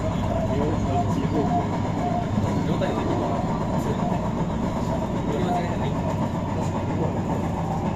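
Hankyu commuter train bound for Kita-Senri, running from Sozenji and pulling into Awaji Station in Osaka, heard from inside with a steady rumble of wheels and motor, faint clicks over rail joints, and Japanese and English on-board announcements over the running noise.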